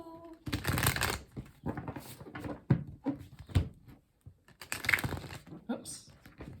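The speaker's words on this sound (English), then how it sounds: "do a little shuffle" Tarot deck being shuffled in several quick riffling bursts, close and fairly quiet, with short pauses between them.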